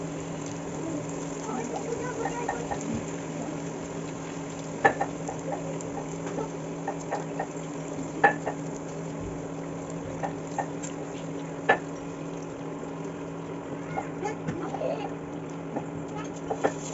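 Puri frying in hot oil, a soft continuous sizzle with faint bubbling ticks and occasional louder pops over a low steady hum, moderately quiet and close.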